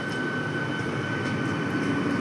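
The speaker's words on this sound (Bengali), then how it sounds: "দেখুন বন্ধ স্টেশন ছেড়ে হলদিয়ার দিকে ঢুকছে, হলদিয়া স্টেশন যাচ্ছে।" A special passenger train from Panskura pulls into Haldia station, running about an hour late in the evening, with a continuous heavy rumble and hum that stays loud and steady throughout.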